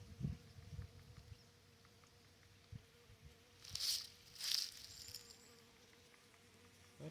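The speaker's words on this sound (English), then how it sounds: "That bee there's got a little pollen." Honey bees buzz around a hive during fall preparation, two short loud buzzes passing close by near the middle amid faint background hum and a few soft knocks.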